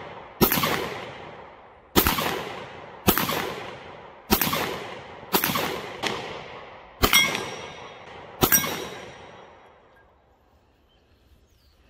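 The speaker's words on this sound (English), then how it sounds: "Well, the gun's shooting a little bit low" A Hi-Point pistol fires seven shots at an outdoor shooting range, each a sharp, loud crack with a ringing decay, spaced at roughly one-second intervals and followed by quiet.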